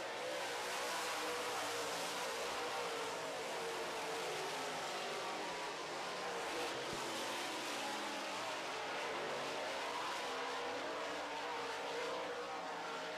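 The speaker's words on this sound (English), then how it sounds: "And now Balkin speeds underneath him on the inside." Late model race cars roar around an oval track in a close pack during a heat race, a dense, continuous engine drone that stays loud and steady throughout.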